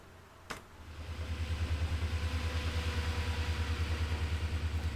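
A GP40 diesel locomotive engine runs steadily, a low pulsing rumble throbbing in a regular rhythm, close and loud, rising in intensity after a brief sharp click near the start.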